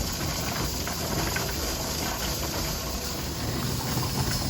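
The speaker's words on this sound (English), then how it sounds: "This is the sound of a Presto pressure canner." A Presto pressure canner processing jars of water on a stovetop element, giving off a steady, continuous hiss with a faint rattling undertone, unbroken and fairly close throughout, with no voices.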